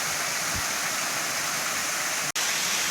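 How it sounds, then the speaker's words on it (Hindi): A city waterfall pours with a loud, continuous broadband rush that stays close and even throughout, briefly cutting out near the end, with no talking. "तो ये था दोस्तों इधर का वाटरफॉल"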